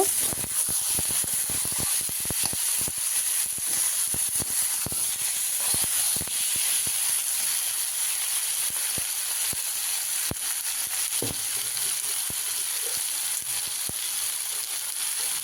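Potatoes and kohlrabi fry in a pan with a steady, bright sizzle and hiss, broken by scattered crackles and pops, heard up close with no talking.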